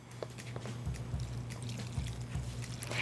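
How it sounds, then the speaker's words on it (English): Water trickles and pours into vegetable pakora batter of diced potatoes and other vegetables, a soft steady liquid splash with a low hum underneath. "I'm gonna go in with water now."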